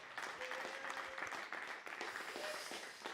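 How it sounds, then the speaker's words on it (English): A short burst of audience applause for the Aberford Authors Drama Collective, a fairly quiet room of clapping hands with a faint whistle-like tone in the mix. "Let's give them another round of applause, please."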